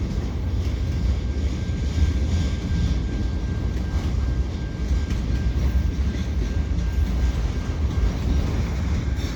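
A CN freight train crosses the Lachine Canal bridge, a loud, continuous low rumble and roll of wagons nearby, steady throughout with a faint tonal whine above.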